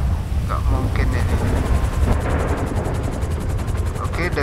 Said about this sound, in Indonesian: Jadi akan dijemput pakai helikopter juga ya